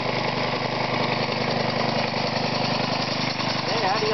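A small engine drives an experimental belt-driven air compressor through a 3-inch to 14-inch pulley on a B-section belt, making a steady, loud mechanical chugging with a fast regular pulse. A voice speaks over it.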